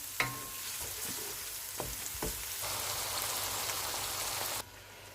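Masala spices frying in a pan for a shalgam chicken gravy, giving a steady close crackling sizzle with a few stirring knocks near the start, continuous and fairly loud until it drops off abruptly near the end.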